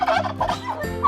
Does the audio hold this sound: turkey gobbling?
yes